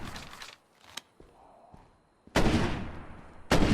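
Gunfire in the zombie survival game State of Decay: a few sharp single shots early, then two loud, close bursts of rapid fire separated by a short gap.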